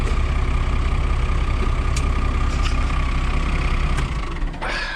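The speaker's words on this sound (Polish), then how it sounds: "Zgaszę silnik, będzie lepiej," A tractor engine idles close by with a loud, steady low rumble and some faint clicks, then begins to drop off near the end as it is shut down.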